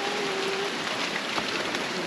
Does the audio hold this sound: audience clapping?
no